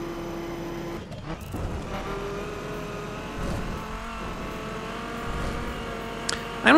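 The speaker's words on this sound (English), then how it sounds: "BMW Z4" A BMW Z4 engine in The Crew racing game hums and revs steadily with rising and falling tones, continuous and fairly close, with no talking over it.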